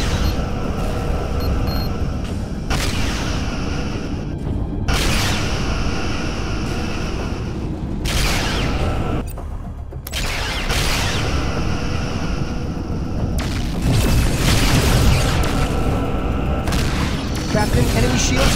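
Starship weapons fire in the Star Trek Legacy game, a string of heavy booming blasts over a few seconds separated by brief gaps, with voices heard among the explosions.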